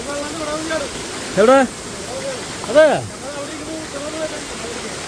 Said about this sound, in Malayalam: ഇതാണ് ഗൈസ് വെള്ളച്ചാട്ടം